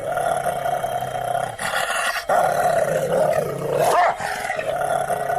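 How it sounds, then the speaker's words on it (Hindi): A dog barks and growls loudly and repeatedly, the harsh, roaring calls sounding close and filling most of the stretch with brief gaps between outbursts. "शेरू उसे देखकर बहुत जोर जोर से भौंकने लगा।"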